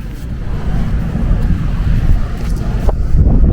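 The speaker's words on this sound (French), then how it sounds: "Il y a là du vent." Strong wind buffets the microphone by the sea in Greece, a steady low roar with gusts and rough choppy water beneath, continuous throughout and with no voices.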